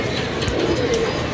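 A pigeon coos in a low, soft call over a constant background hum, brief and fairly close.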